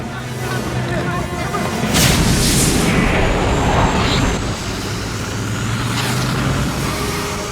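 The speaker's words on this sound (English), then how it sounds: "a lot of the sound effects for the Batmobile were changed." Loud, dense Batmobile rumble from the Batman films with whooshing passes and booming bursts, a cinematic car sound effect mix running continuously throughout.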